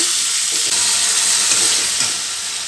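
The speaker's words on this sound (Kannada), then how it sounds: "ಸ್ವಲ್ಪ ಎಲ್ಲ ಚೆನ್ನಾಗಿ ಫ್ರೈ ಮಾಡ್ಕೋಬೇಕು" Spices frying in a pan with salt for a mutton curry, a loud, dense and continuous hiss of sizzling oil that stays close and even, with faint stirring beneath it.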